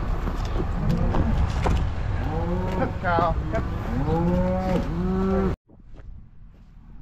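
Cows mooing in a barn during calving season, several loud drawn-out bellows in a row, near and overlapping, with a man briefly calling out to the animals and a sudden cut to quieter sound near the end.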